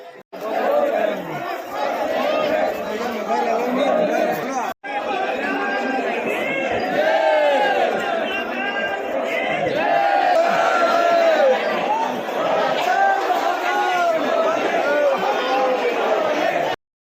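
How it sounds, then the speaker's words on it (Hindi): A dense crowd of pilgrims at the Mahakal temple in Ujjain on the first Monday of Sawan, with a constant roar of overlapping voices, calls and chatter close around, briefly interrupted once. "आप देख सकते हैं महाकाल के दर्शन करने के लिए कितनी भीड़ है"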